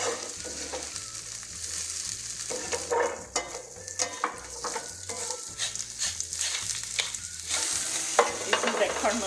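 Salted onions caramelize in a pan for beef liver with carrots and onions, a close, busy sizzle broken by repeated spoon scrapes and stirring clatter, with a low steady hum running underneath.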